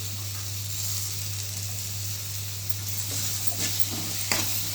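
Carrot, beans and potato sauté in hot oil for a vegetable chapati kurma, giving a steady close sizzle with a few soft scrapes of stirring toward the end, no voices.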